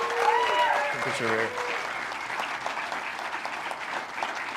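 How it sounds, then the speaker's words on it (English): Audience applause carries on for several seconds, a steady wash of clapping with a voice speaking briefly over its start. "Big round of applause here for Mr. Jorge Gutierrez."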